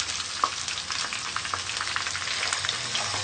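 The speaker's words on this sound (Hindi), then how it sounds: "अब हम इसमें प्याज का पेस्ट शामिल करेंगे" Onion paste frying in oil for a Pakistani kofta curry, a close, steady sizzle and crackle with occasional sharper pops, and no talking.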